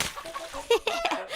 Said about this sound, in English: Silly Mummy, it's only chickens.